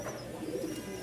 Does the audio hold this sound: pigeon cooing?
yes